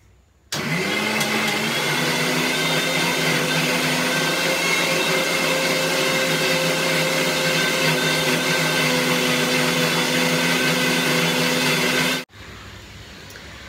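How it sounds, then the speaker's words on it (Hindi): A mixer grinder grinding hibiscus leaves into paste whirs loudly and steadily for about twelve seconds, a harsh motor drone that starts abruptly and cuts off at the end. "अब ये सारे जाएंगे ये मिक्सी के जार में"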